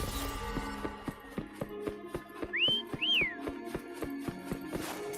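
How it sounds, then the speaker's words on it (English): A person whistles two short rising-and-falling notes over a steady rhythmic game backdrop with regular tapping beats, with quiet, distinct whistling in the middle of the stretch. "Try whistling."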